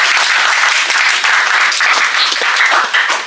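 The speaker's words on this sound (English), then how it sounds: "So please give a huge round of applause for both." A huge round of audience applause at a spoken English class event in Hazaribagh, loud, dense clapping from many people sustained throughout without talk.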